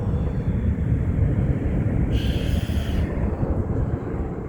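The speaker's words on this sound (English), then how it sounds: "can't even see the airplane. The clouds are so low." An airplane flying high above low cloud cover gives a steady, broad, distant rumble that holds throughout, with no voices over it.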